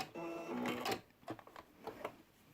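A sewing machine runs in a short burst of rapid stitching, then stops, followed by a few soft clicks and handling noises.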